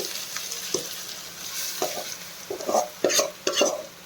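Spoon scrapes and stirs mango-coconut chutney paste into a sizzling tempering in a pan with the stove off, irregular strokes growing busier toward the end, close by with no speech.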